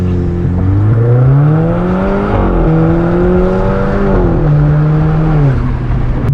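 An Audi A5 2.0 TFSI with a Stage 2 tune revs hard and close, its engine note sweeping up and down in long smooth pulls, with a brief crackle near the end as the throttle lifts.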